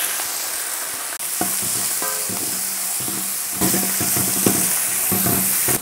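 Onions frying in hot oil with mustard seeds, dried red chillies and curry leaves for a South Indian sambar tempering, a steady close sizzle with crackles and spoon scrapes throughout, no talking.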